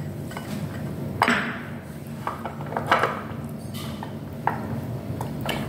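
Egg and starch whisked with a little water in a bowl, quiet clinks and taps of utensil against the bowl coming in irregular bursts over a soft background, close by and without talk.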